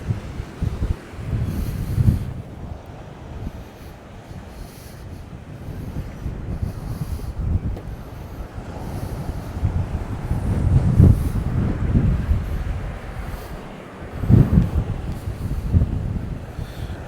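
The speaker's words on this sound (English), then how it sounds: "I'm not cold, it's just the wind is really rough." Strong coastal wind during a storm at a seaside beach town buffets the microphone in rough, uneven rumbling gusts, with louder surges near the middle and end and no talking.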